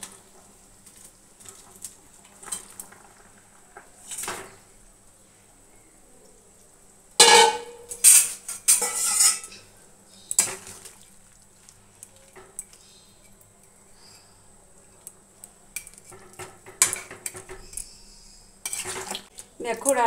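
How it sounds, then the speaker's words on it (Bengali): Cauliflower and bhetki fish pieces added to a simmering curry in a pan, with a burst of clattering utensil-on-pan knocks and scraping stirs against a quiet cooking background, close and fairly loud, with no talking. "এখন দিয়ে দেব হচ্ছে কফিগুলো আর মাছগুলো। এই যে দেখো কফি আর মাছগুলো দিয়ে দিচ্ছি।"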